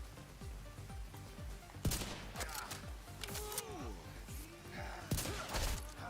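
Gunfire in The Division 2 plays as scattered sharp shots and short bursts, fairly faint and mixed with game effects and falling-pitch electronic tones, while a voice is heard during the shooting.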